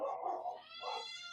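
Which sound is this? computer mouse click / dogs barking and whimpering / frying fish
dogs barking and whimpering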